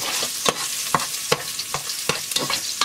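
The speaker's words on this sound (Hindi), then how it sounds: "इसे कितनी देर भूनना है, मिर्च का कलर जैसे चेंज हो जाए" Chillies frying in a pan, a close sizzle punctuated by regular spatula strokes knocking and scraping about twice a second, with no speech.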